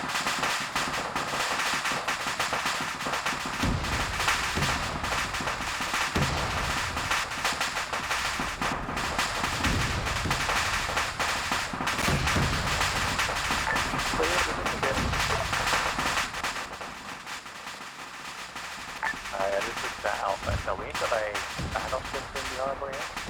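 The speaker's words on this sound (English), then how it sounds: "I can't hear you over the explosions." Dense explosions and gunfire fill a WW2 train simulator video game battle, with heavy bursts and rapid shots packed closely together, one loud stretch dropping away briefly near the end, and voices talking underneath.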